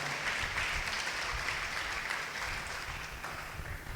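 Church congregation clapping loudly together at a worship gathering, a thick, continuous roar of hands that eases slightly toward the end.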